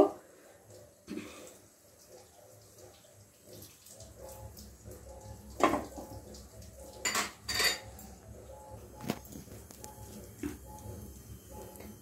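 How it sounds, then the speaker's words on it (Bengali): A pan is set down on a stove and mustard oil is added for cooking potatoes, heard as sharp metallic clinks and clatters against quiet kitchen background, with a few louder knocks in the middle. "আমি প্যানটা বসিয়ে দিয়েছি, আর এখানে আমি সর্ষের তেল নেব"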